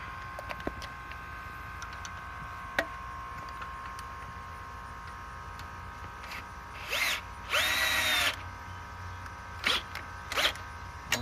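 A power tool tightens a fitting on a loader, with a faint hum at first, then short whirring bursts, one longer steady spin, and a few brief pulses afterward, close by and without talk.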